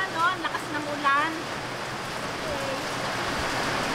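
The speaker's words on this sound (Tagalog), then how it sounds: "Naabutan na po kami ng ulan, no? Lakas ng ulan." Heavy rain pours down outdoors in a constant, dense hiss, with a voice and a brief tonal sound near the start before the rain carries on alone.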